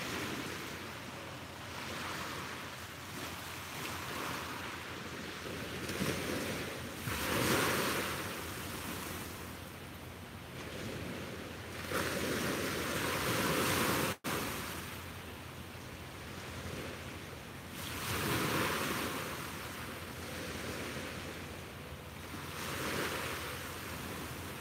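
Ocean waves roll in and break on the shore in slow, repeating surges, with a constant wash of surf and some wind in between.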